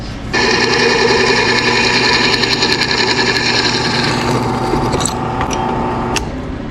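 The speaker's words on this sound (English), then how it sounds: "So I'm going to go ahead and drill the hole" A power drill whirs loudly and steadily with a high motor whine for several seconds while drilling a mounting hole for a car fuse box, then slows and stops with a few clicks near the end.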